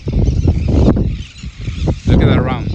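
Birds honk outdoors in a bright open space, several goose-like calls in an uneven series, fairly close and loud, with a person talking between and over them.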